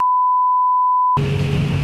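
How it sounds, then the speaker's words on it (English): A steady electronic censor beep, one continuous tone lasting about a second, then cut off abruptly into room noise. "I hope you just beeped out the name of this place"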